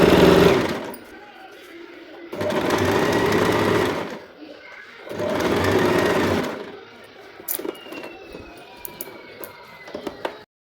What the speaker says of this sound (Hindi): इस तरह से आधे चाप की दूरी रखते हुए सिलाई लगाते हुए चले जाएंगे